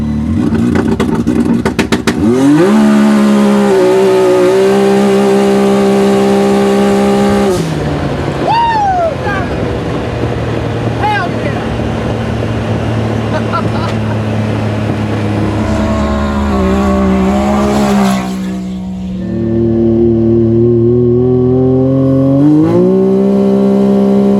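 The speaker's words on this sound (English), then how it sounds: "All right, we're gonna do a little launch control boost here." A street-legal turbocharged 4WD side-by-side on slick tires launches hard with launch control: loud held engine drone, then a rising surge of revs through several upshifts, with a brief dip before another hard pull, recorded close from inside with people's voices faintly mixed in.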